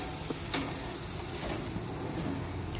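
Sausages fry in a pan outdoors over a turned-up flame, giving a continuous broadband sizzle with a few sharp crackles and light scrapes from the pan, fairly quiet and with no talking.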